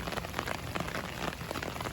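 Heavy, steady rain pours down around the Rathoa Haryam Bridge in Mirpur, Kashmir, a dense continuous hiss of drops striking surfaces close by with no voices.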